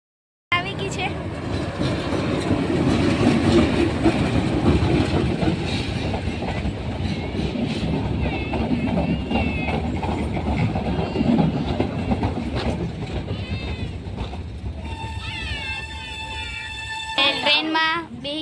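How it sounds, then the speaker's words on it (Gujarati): A passenger train rumbles along steadily with a continuous clickety-clack of wheels on rails, heard from on board. Faint voices sit underneath, and a high wheel squeal rises near the end. "ટ્રેનમાં બેસી ગયા છીએ."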